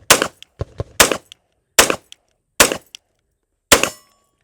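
Five sharp 9mm pistol shots from a SIG P229 Pro Cut, fired at an even pace about a second apart, each loud crack followed by a short tail and faint metallic clatter, with no talk.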